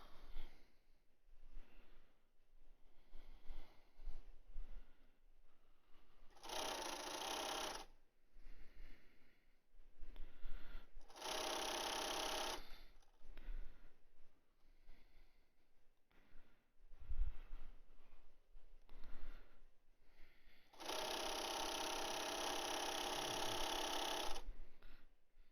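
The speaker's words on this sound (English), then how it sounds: "Just keep sewing." Sewing machine stitching fabric masks in bursts of fast, steady mechanical whirring, each run lasting a second or two and one longer run near the end, with quiet pauses between.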